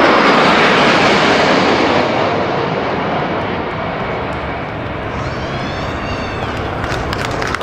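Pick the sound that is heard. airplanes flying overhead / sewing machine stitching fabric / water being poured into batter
airplanes flying overhead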